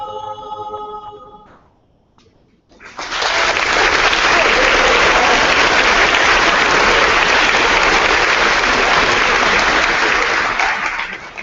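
An audience at a high school senior assembly bursts into sustained applause after a sung alma mater fades, the clapping loud, dense and steady for about eight seconds.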